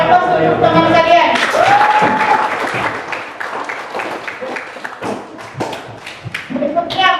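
Classroom students applaud a presenting group of classmates, a burst of scattered, uneven clapping mixed with thumps and a few voices, with talking before and after.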